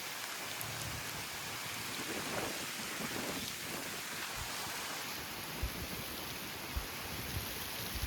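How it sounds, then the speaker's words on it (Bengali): Steady rain pours over a green paddy field, its grass and surrounding trees, a dense even hiss of falling water with occasional heavier drops close by, no voices heard. "ধান খেতে সবুজ ঘাসের উপরে এরকম বৃষ্টি পড়ছে গাছে"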